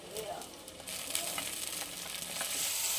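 Tomatoes softening with onions in a hot pan give a steady, moderately quiet sizzle and hiss, with a few stirring scrapes, heard up close.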